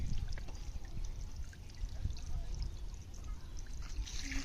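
Iron-rich red water running from a tap, a faint continuous trickle and splash with some background noise and voices.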